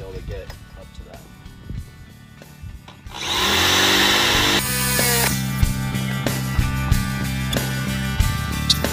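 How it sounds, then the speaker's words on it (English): A handheld power drill bores a hole in a converted bus for an M8 rivet nut, whirring loudly in a sustained burst after brief speech, then continuing at a lower pitch with someone talking over it. "I will have to use my other drill bits to be able to get up to that."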